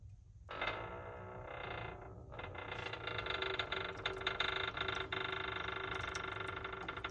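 A car jack slowly lowers a 2022 Chrysler 300's suspension during a cheap lowering coilover install, giving a faint, steady mechanical creaking and ratcheting that continues throughout.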